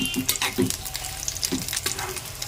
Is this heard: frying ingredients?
yes